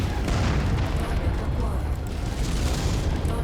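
Explosions from hits on an artillery emplacement in MechWarrior 5: Mercenaries, a dense unbroken roar of booms and rumbling blasts, loud and steady for the whole stretch, with a voice talking over it.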